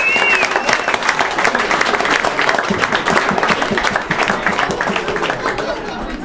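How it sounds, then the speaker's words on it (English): An audience at a fundraiser event applauds, a dense, loud wash of clapping that carries on steadily with faint crowd chatter mixed in. "give them a big round of applause and support their organization in the summertime"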